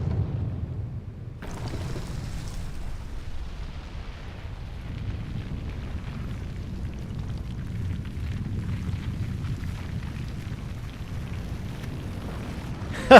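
A fiery explosion in Zelda: Breath of the Wild gives a sustained, rumbling roar like a blast or eruption. It swells steadily and stays loud for several seconds, with no voices over it.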